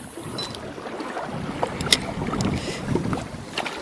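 Wind gusting and buffeting the microphone outdoors by a cliff on the Dnieper River, a low rumbling roar with a few sharp knocks, continuous and fairly loud, no speech.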